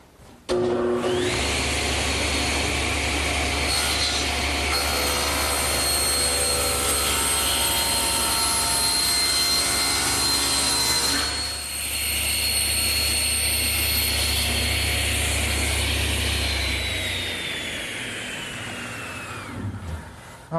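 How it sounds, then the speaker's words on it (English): A panel cutter saws across the bottom board of a wooden hearthside settle, a loud steady whining drone that holds for most of the cut and then winds down as the blade spins out. "my panel cutter sure makes an easy job of squaring up the bottom"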